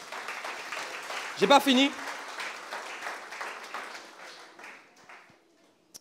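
Church congregation applauding to acclaim God during a sermon, a scattered ripple of clapping with a louder burst in the middle, fading out under a voice speaking briefly.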